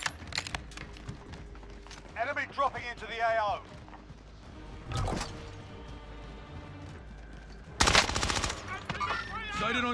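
Bursts of machine-gun fire crackle in Call of Duty: Modern Warfare, with rapid volleys near the start, a sharp gunshot in the middle and a loud close burst toward the end, while radio-style voices chatter in between.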